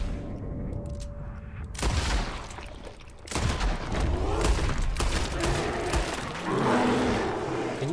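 Gunfire in Red Dead Redemption crackles in loud, dense bursts of shots and booms over a rumbling, noisy background, continuing through most of the stretch.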